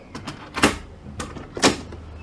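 Cassette door on a Nakamichi CR-40 tape deck, with a chrome tape inserted: a few soft mechanical clicks and two firmer clunks, close up and alone.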